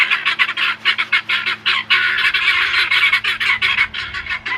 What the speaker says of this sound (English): Guineas are loud birds.